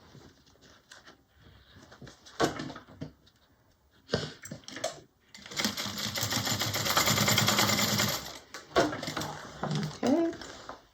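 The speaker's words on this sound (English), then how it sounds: "I just go back stitch a little over the D-ring connector." A sewing machine back-stitches over a D-ring connector on a mini bowler bag, its rapid mechanical chatter in short bursts and one longer run, mixed with handling noises.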